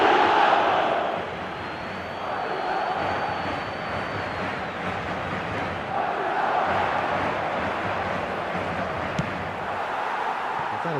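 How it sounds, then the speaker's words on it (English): Stadium crowd noise in the eFootball 2026 football video game, a broad roaring wash that surges and swells after a goal, continuous and moderately loud with no commentary over it. "the crowd level has gone up a notch or 10"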